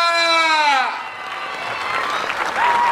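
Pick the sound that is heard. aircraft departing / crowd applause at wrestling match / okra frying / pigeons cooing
crowd applause at wrestling match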